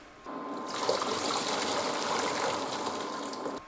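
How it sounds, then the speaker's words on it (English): Cooked pasta is drained, and water pours and gushes steadily for about three seconds before stopping abruptly, close and fairly loud with no talking. "we're going to drain our pasta"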